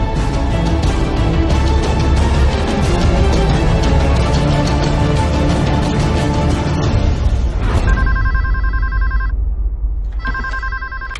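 A telephone rings in an office, loud electronic trilling bursts in two clear rings near the end, following a stretch of dense music and noise.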